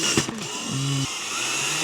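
A power drill whirs in a short burst, then a steadier mechanical hum continues, close by, while assembling an IKEA shelf.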